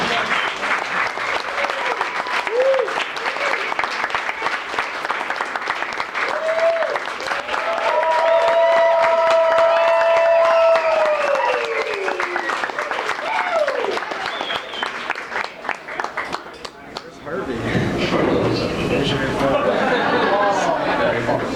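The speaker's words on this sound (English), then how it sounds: "Give him a nice round of applause." Loud sustained audience applause for a comedian at the end of a set in a comedy club, with cheering and whoops rising over the clapping, a host's voice briefly over it before a fresh burst.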